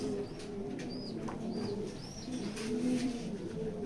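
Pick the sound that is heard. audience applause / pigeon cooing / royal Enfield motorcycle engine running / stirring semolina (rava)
pigeon cooing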